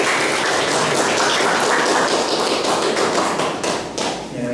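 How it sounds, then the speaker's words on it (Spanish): An audience applauds at a professional gathering on construction processes, a loud, dense wash of clapping that holds steady throughout and eases slightly at the end. "Un fuerte aplauso y muchas gracias."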